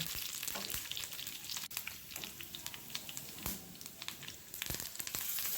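A hot tempering is poured into a finished fish curry, setting off a bright crackling sizzle close by, with scattered pops and a few sharp clicks through the short stretch.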